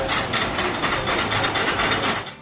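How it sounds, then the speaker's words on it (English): A roller coaster train climbs a lift hill while its anti-rollback device gives off a fast, continuous mechanical clatter, with rapid even ratcheting clicks over a low rumble of machinery, loud and steady throughout. "These devices often create that recognizable ratcheting sound as the train moves up the lift hill."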